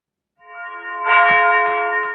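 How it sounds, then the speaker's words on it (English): Church bells ring out with sustained, layered tones that swell and linger, a few strikes blending together at moderate distance. "Oh, the bells."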